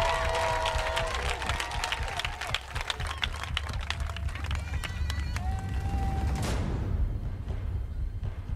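A church congregation acclaims and applauds during a lively worship service, with rapid clapping and cheering under a preacher's voice and music, the noise fading out near the end.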